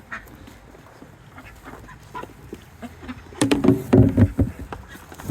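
Chickens on a farm cluck and squawk close by, with scattered faint calls at first and then a louder burst of overlapping clucking and honk-like squawks toward the end.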